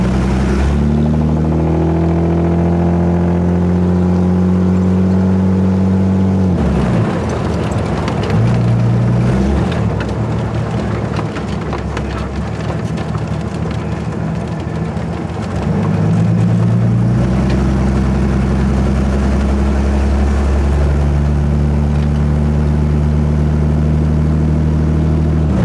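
A 1927 Hudson car engine runs loud and close while the transmission shifts. Its steady mechanical drone changes pitch through several gear changes, with a rougher, noisier stretch in the middle.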